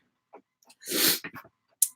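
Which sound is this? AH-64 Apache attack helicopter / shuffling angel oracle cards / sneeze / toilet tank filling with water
sneeze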